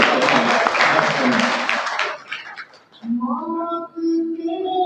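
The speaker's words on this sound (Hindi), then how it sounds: "जोरदार तालियां बजाते हैं।" A crowd at a ghazal recitation gathering breaks into a burst of clapping that fades after about two seconds, followed by a voice speaking.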